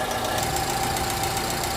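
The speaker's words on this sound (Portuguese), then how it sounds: "Então aqui a gente tem aí o motor tá funcionando, né? E a gente ouve um barulho um pouco agudo, né?" A VW Fox with the 1.0 VHT engine idles steadily with a faulty hydraulic lifter, giving a continuous, close engine hum with a faint high-pitched tapping and a steady whine running through it.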